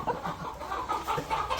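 Several hens cluck close by on a farm where bullock-cart racing animals are kept, a steady run of overlapping clucks with no talk.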